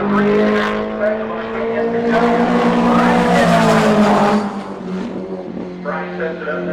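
Midget race car on the throttle through turn four at Winchester, Indiana, a loud, near engine roar with strong harmonic whine that holds steady, then eases slightly toward the end, under an announcer's talk.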